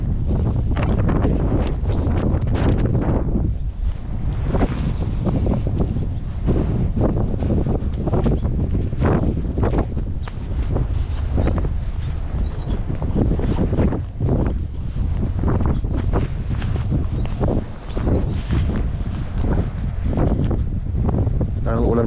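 Strong wind buffeting the microphone with rain while out fishing on the water, a loud continuous rushing roar with gusty surges, and someone talking intermittently underneath.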